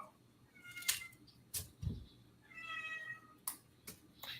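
A house cat meows twice, short bright cries a second or two apart, amid soft kitchen clatter and thumps in a quiet room, with no voices.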